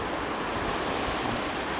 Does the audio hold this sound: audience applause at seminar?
no